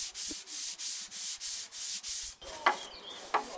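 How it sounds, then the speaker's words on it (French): Sandpaper rubs over pre-drilled screw holes in a wooden gate to deburr them, making eight loud, even back-and-forth strokes, followed by quieter scuffs and a couple of light knocks. "Je donne un petit coup de ponçage pour ébavurer un petit peu tous les trous de mes pré-perçages."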